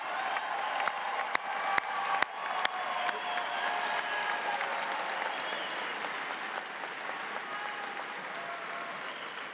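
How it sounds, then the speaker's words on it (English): A large audience at a December commencement ceremony applauds the graduates, a broad, even wash of clapping with a few sharp claps near the start and faint cheering mixed in. "Let's give them another round of applause"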